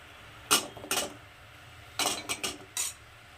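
Karonda fruits are tipped into sugar syrup in a pan, giving a few quiet, sharp clinks and clatters of utensil on metal in two short clusters separated by a pause.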